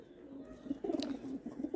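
Pigeons coo at a Jammu bird sale, a few soft rolling calls close by, rising in the second half over a low steady murmur with no speech.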